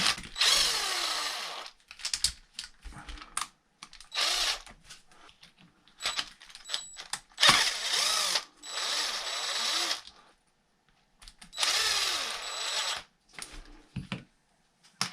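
A power driver spins the hex hubs off a Losi LMT during an aluminum axle install, running in several short bursts of a few seconds each with quiet gaps between.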